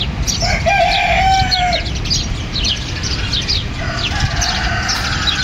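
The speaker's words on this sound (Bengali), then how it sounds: "এখানেও কিছু দেশি মুরগি রয়েছে, যেটাকে আমরা আমাদের স্থানীয় ভাষায় রাতা মুরগি বলে থাকি।" Domestic chickens and a rooster call in Baris park in Girne, Kyrenia: a long, loud crow near the start and another later, mixed with clucks and chirps over a steady outdoor background.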